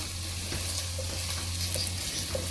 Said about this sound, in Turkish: Salçamızı, biber salçamızı bir yemek kaşığı etle birlikte soğanla, biberle lezzet birbirine karışsın diye böyle yapıyorum ben.